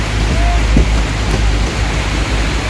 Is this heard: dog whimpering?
no